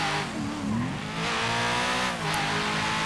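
A Chevrolet Camaro SS muscle car in GTA 5 revs and accelerates loudly, engine note rising and falling with brief tire squeal as it drives along a back road, no voices.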